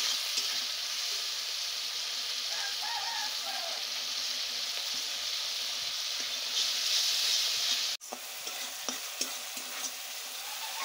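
Spices and tomato fry in a pan with a steady, dense sizzle and hiss, interrupted by a sudden dropout then lighter stirring scrapes, with no talking.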